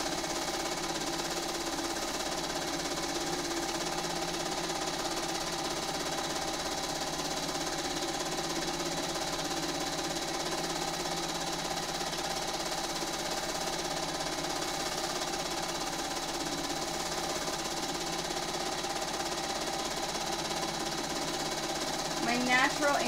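A sewing machine running continuously during free-motion quilting makes a steady, close mechanical hum and rapid needle chatter that lasts throughout, while a voice talks over it.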